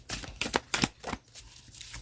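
Playing cards being shuffled for a card reading, a quick series of crisp riffling bursts in close succession, then fading to quiet room tone.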